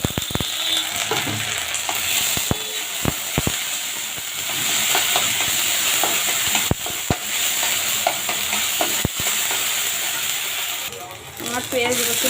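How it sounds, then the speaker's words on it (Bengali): Onion and garlic paste sizzling steadily in a frying pan, with sharp clicks and scrapes of a spoon stirring it at intervals, close and fairly loud throughout. "এখন পেঁয়াজটা একটু বেজে নেব, তারপর রসুন বাটা দিই।"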